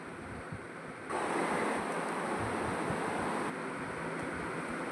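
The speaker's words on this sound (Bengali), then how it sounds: "আমি মৌসুমিগুলো প্রথমে জল দিয়ে ধুয়ে নেব।" Running water splashes steadily over mosambi sweet limes being washed, a continuous hissing gush that swells louder partway through, then settles back.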